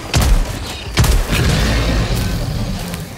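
Punisher shotgun blasts in Helldivers 2, two heavy booming shots about a second apart followed by a dense rumbling tail of battle noise.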